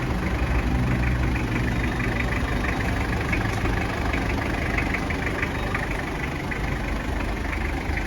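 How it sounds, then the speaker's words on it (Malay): A Mitsubishi Pajero diesel engine idles smoothly and steadily, a close, even low rumble that holds the same level without revving, with no voices over it. "dengar bunyi alunan enjin diesel ni sangat-sangat lembut"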